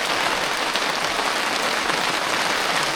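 Steady, dense rain pattering on a surface, a continuous broadband hiss that stays even throughout with no voices.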